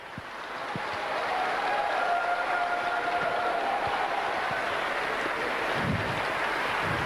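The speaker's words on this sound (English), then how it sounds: "Please let us give a big round of applause to welcome each other." An audience at a peace-tour conference event in Romania breaks into applause that swells within the first second. The clapping then holds as a broad, steady wash for the rest of the clip.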